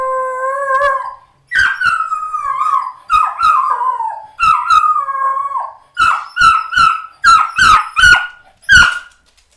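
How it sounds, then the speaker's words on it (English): A dog barks and howls in a series of loud, close, drawn-out yelps with short pauses between them, no other sounds around. "now the dog's barking"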